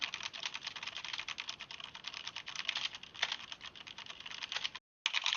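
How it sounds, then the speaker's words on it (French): Rapid, steady keystrokes clatter from a Corsair K70 mechanical keyboard with MX Red switches, close and fairly quiet, with a brief gap near the end before typing resumes. "on enchaîne avec le test du clavier mécanique, clavier Corsair K70, équipé de switch MX Red"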